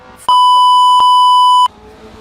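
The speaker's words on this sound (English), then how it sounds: "I'm putting in a lot of beeps in this episode." A loud, steady censor beep tone cuts in sharply, holds for about a second and a half, then stops abruptly, with quiet background sound before and after it.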